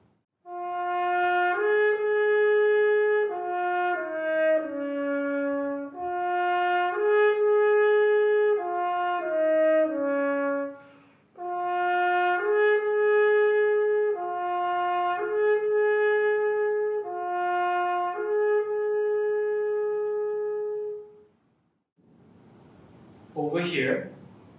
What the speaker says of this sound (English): it's a commonly used mute called the straight mute